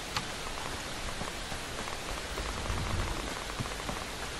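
Steady, hard rain in the video game Fear the Wolves, a dense, even hiss of drops on surfaces with occasional louder individual patters, continuous and without talk.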